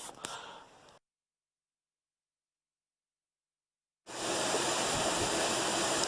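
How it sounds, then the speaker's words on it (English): Waterfall in a deep canyon, a steady broad rushing roar starting after a long silence, close and loud, with a brief burst of quieter noise at the very beginning. "And here I am above the first waterfall"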